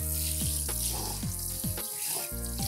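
Tap water running into a kitchen sink drain, rinsing bleach foam away: a steady, close splashing stream with bubbling gurgles and clattering sputters throughout.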